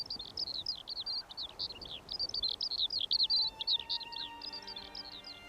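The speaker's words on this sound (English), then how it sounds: "I heard a skylark singing" Skylark singing in the open during a snowstorm, a continuous stream of rapid, high, warbling chirps and trills, fairly close and unbroken, with faint steady wind or background hiss beneath.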